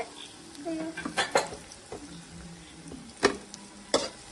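Potatoes frying in a pan give a low, steady sizzle, with a few sharp clatters of stirring against the pan. The sound is close and moderately quiet, and no one speaks.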